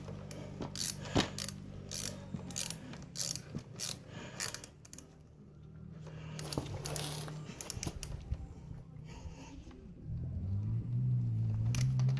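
A ratchet tightens the front wheel bolts on a dirt bike, with bursts of rapid metallic clicking, brief pauses and clanks of tool handling, close up with a low hum in the background.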